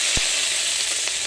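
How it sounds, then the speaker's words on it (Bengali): Green chillies sizzle in hot oil in a wok, a loud, steady frying hiss close by with a couple of brief sharp pops. "কড়াই গরম হয়ে গেছে, তো তেল দিয়ে দিচ্ছি, কাঁচা লঙ্কা গুলো দিয়ে দেবো এবার"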